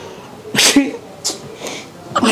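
A person sneezes several times in quick succession, each a sharp, close burst separated by short pauses, with a faint voice murmuring in the background.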